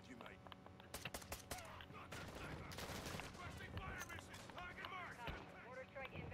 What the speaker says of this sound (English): Got a mortar strike.